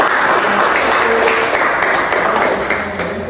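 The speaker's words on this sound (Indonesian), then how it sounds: "Sebelumnya tepuk tangan dulu." A classroom of students applauds together before a group presentation, a dense, loud, sustained burst of clapping that fills the room and tapers slightly at the end.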